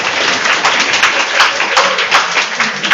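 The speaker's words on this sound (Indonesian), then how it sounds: "tepuk tangan buat Rara" Seminar audience at Matana University applauding for a student named Rara, a moderate patter of clapping from a small crowd, continuous and fairly close for a few seconds.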